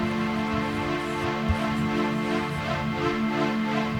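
A sustained synthesizer note shifts gradually in timbre as an LFO blends between a smooth, pure sine wave and a brighter, buzzier supersaw, with no voices.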